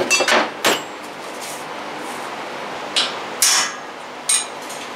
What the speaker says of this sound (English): Center punch.